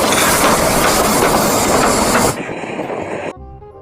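A loud, steady rumbling clatter from a toy Thomas the Tank Engine train running, then it drops off in stages to near silence.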